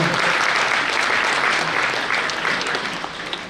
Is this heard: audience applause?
yes